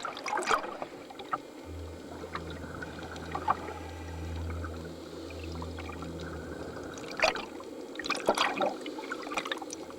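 Water lapping at the sea surface during a Red Sea night dive, gentle irregular sloshes and splashes over a low rumbling background, with sharper splash bursts near the start and end, and no voices.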